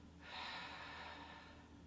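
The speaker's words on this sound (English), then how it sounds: "Breathe in and out." A single slow, soft breath drawn in and let out during a full moon meditation ritual, airy and close, lasting over a second without any talk.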